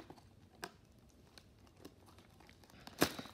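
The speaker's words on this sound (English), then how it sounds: "Should have brought a knife over here to cut the plastic off." Plastic shrink wrap is picked at and torn off a 2017 Prestige trading card blaster box by hand, faint scattered crinkles and small scrapes ending in one louder ripping crackle near the end, with no talk.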